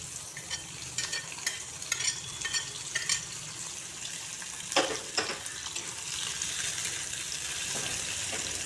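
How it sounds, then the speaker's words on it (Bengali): Onions sizzle and fry in hot mustard oil in a wok, a steady loud hiss with intermittent stirring scrapes and clinks close by. "পেঁয়াজগুলো লাল লাল করে ভেজে নেব, তারপর মরিচগুলো দেবো।"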